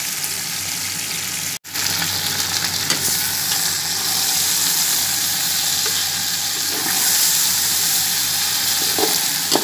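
Sindhi biryani underway as 1 kg of chicken fries and browns in a pot, giving a steady close sizzle with occasional stirring clinks, broken by one brief dropout near the start.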